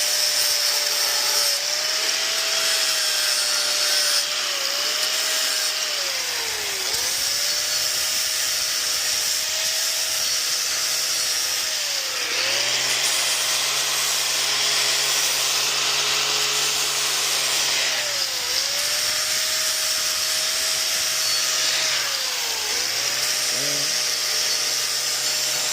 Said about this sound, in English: Put a 40 grit flap wheel disc on.